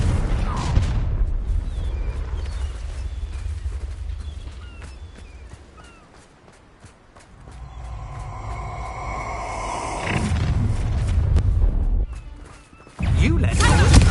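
Confringo fire spells burst in Hogwarts Legacy on PS5, giving heavy booming blasts amid battle clatter and rumbling game sound, with a voice talking over parts of it and a brief lull midway.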